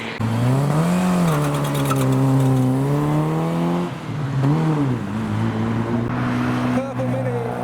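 A loud car with yellow headlights on a yellow body drives past at a JDM car show, its engine note rising and falling as it revs by close up, with people talking underneath.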